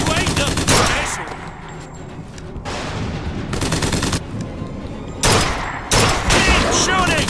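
Rapid bursts of close gunfire from a Bioshock Infinite firefight crack out in heavy volleys, broken by short lulls, with shouted voices mixed into the clamor.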